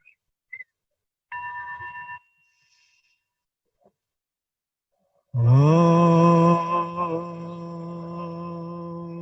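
A meditation bell is struck once after a short earlier ring, blooming into a rich, sustained tone with a low hum that slowly fades, heard clearly in a quiet room.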